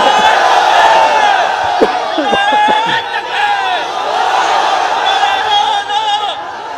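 A large crowd at an outdoor daytime Islamic sermon gathering in Gobindaganj, Gaibandha shouts together in response to a takbir call, a loud, dense roar of many voices that swells and holds, with scattered whoops over it.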